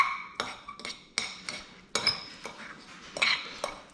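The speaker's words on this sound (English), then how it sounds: "so I just fork shred this" A fork scrapes and clinks against a bowl while shredding cooked meat for pozole verde, a series of sharp metallic taps and scrapes at an uneven rhythm, close and fairly quiet.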